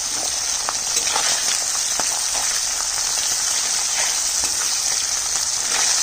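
Fish frying in hot oil in a home kitchen gives a steady, dense hiss with scattered small pops throughout, close by and without talk.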